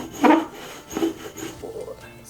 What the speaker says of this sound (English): Press it properly. And then do some burnishing.